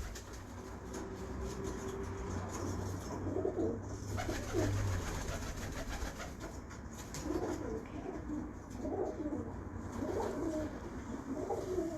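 Pigeons belonging to a breeder coo repeatedly in soft, rhythmic bursts, close by, over a steady low background hum.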